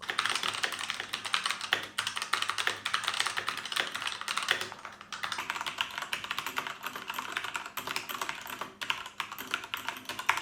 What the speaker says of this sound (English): I need to lift my fingers and then hit the keys if I want to type fast